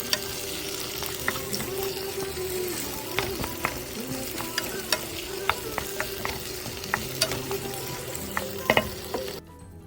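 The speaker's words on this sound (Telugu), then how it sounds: "మొత్తం మిక్చర్ అంతా ఈ విధంగా కలుపుకోవాలి." Onion, tomato and potato mixture stirred in a hot pan, continuous sizzling with frequent spoon taps and scrapes against the pan, close and steady throughout.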